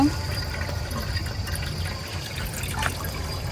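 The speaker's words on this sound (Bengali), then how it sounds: "পাতিলের মধ্যে পানি দিয়ে দিতেছি পিঠাগুলো ভাপ দেওয়ার জন্য" Water pours steadily into a cooking pot being readied for steaming bhapa pitha, a continuous, fairly even rush of liquid over low background rumble.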